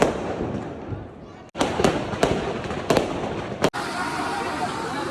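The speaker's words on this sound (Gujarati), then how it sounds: "જો ફટાકડા ફૂટવાનું શરૂ થઈ ગયું છે સાળંગપુર મંદિરે" Firecrackers burst for Diwali at Salangpur temple in a string of sharp cracks, several loud pops in quick succession over a noisy, crackling background of an outdoor crowd.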